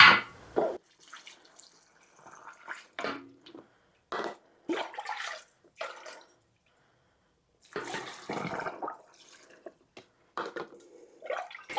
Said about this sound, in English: now we're going to add broth to our jars